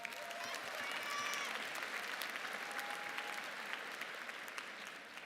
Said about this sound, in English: Now keep clapping